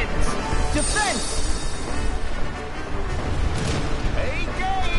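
Booming cannon blasts and explosions during a pirate sea battle in Kingdom Hearts 3, with rumbling impacts scattered through a dense, noisy battle soundscape.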